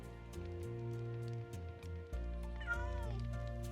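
A cat in the Minecraft video game meows repeatedly, with several drawn-out, tonal mewing calls heard clearly and close, one after another, and no talking over them.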